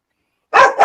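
A dog barks twice in quick succession, close and loud, the short sharp yaps arriving after a half-second of silence.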